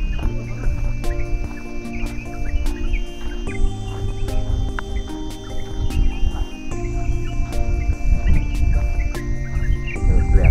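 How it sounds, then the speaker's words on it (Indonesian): Birds sing at dawn on a hill facing Mount Lempuyang, with repeated chirps and whistles close by over a steady bed of insect buzzing and some outdoor rustle. "Wow, suara burung khas banget."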